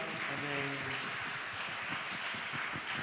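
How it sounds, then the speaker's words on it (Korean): A church congregation gives applause during a worship service, a soft steady wash of clapping with voices and sustained tones beneath it. "우리 주님께 다시 한 번 더 감사와 찬양의 박수 올려드립니다."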